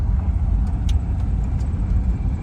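A 1983 Ford Crown Victoria LTD driving on a tar road, with a steady, loud engine rumble and road noise throughout, close and continuous with no talking.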